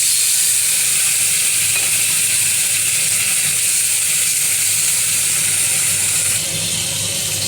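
Raw mango pieces sizzling in hot oil with panch phoron, a loud, close, unbroken hiss of frying that holds steady the whole time and eases off slightly at the very end, with no talking.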